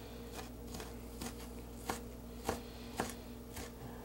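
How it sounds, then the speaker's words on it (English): Knife chopping onion into finer pieces on a board, a series of about seven sharp, evenly spaced cuts, close and fairly quiet, with no talking. "and then we're going to want to chop these up into"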